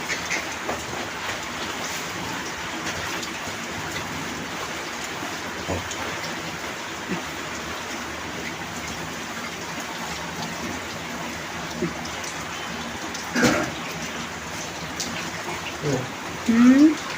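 Steady rain falls continuously in a Punjab village, a soft even hiss with a few sharper drips. Faint voices are heard now and then.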